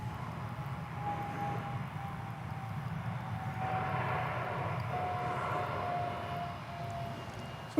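An American Eagle Embraer 175 regional jet taking off at DFW Airport, heard from a distance as a steady, low engine roar that swells slightly midway, with no talk over it.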